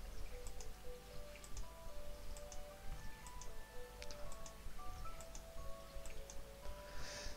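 Crops are watered in a farming video game, with soft, scattered droplet ticks and drips over quiet, tinkling game music.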